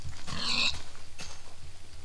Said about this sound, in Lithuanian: Ai, nu dar vieną kiaulę užmušiu.